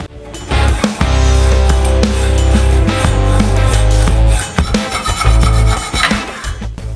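Metal stock for a motorcycle frame being cut by hand, a loud close rasping scrape in repeated uneven strokes with brief pauses, rough and gritty throughout.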